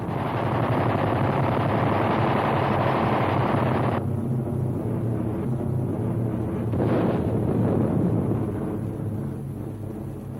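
Machine guns of A-36 fighter-bombers firing in long continuous bursts while strafing in a dive over a wartime roadblock, with loud rattling fire under roaring wind and aircraft noise that eases and returns.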